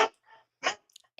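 A dog barks in short bursts, two main yelps about half a second apart followed by faint higher squeaks, fairly close and alone without talk.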